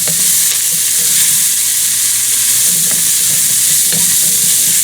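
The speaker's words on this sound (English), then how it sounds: "And the mushrooms in there. We're just going to saute them just a little bit." Mushrooms and onions sauté loudly in a single pot, a dense, continuous sizzle and crackle with stirring scrapes mixed in, close and steady throughout.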